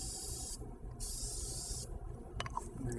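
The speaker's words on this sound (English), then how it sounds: "That's a release spray as well." Release spray with flour hisses from an aerosol can into baking cups for chocolate lava cake, two steady bursts close up, the second broken by faint clinks from the pan.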